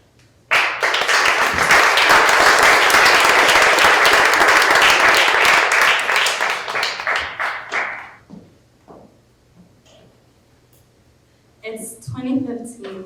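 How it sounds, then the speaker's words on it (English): Loud audience applause at a storytelling showcase greets the next storyteller, a dense burst of clapping lasting about seven seconds before thinning into scattered claps, followed by a brief pause and a few words from the stage. "give a nice round of applause"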